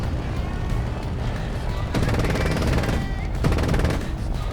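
Aircraft gunfire in War Thunder, Bf109 dogfight in simulator mode: two long rapid bursts of machine-gun fire, dense and rattling, from about two seconds on, over a constant roaring engine drone.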